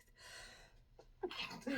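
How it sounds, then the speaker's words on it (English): A single sharp sneeze bursts out close by after a quiet breath, followed by a brief noisy exhale. "I'm gonna sneeze."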